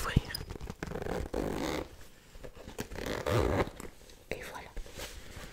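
A makeup pouch zipper is pulled open in short scratchy rasps, close and soft, under faint whispering.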